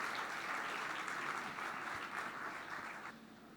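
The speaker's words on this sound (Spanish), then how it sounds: "Fuerte ese aplauso de alabanza al Señor." A church congregation claps in praise during a service, a soft, even wash of applause heard from a distance that eases off toward the end.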